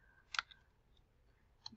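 A computer mouse gives a few faint, crisp clicks, a quick pair near the start and another click near the end, in an otherwise quiet room.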